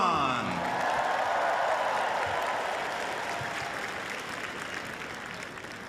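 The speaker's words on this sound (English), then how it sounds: "let's have a big Westminster cheer for Mr. Des Duran." A large indoor audience at the Westminster Kennel Club Dog Show applauds and cheers, a dense sustained roar of clapping close up that fades slightly over several seconds, with a voice briefly heard at the start.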